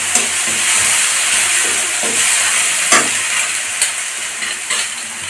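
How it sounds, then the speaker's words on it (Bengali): Garlic paste sizzling and frying in hot oil for a Bengali-style chicken skin curry, a steady close hiss with faint stirring scrapes and a few sharper pops, no talking. "রসুন বাটা দিয়ে দিচ্ছি।"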